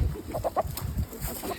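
Chickens and roosters clucking on a farm, a busy overlapping chorus of short, rhythmic clucks and calls at moderate distance with no talk.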